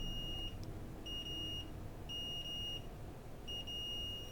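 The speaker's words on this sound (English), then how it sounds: "Let's turn the beeper on. Yeah, dead short." A multimeter's continuity beeper sounds while probing a liquid-damaged Asus Prime Z370 motherboard with a dead short, giving four steady high-pitched tones in a repeating on-off rhythm over low room noise.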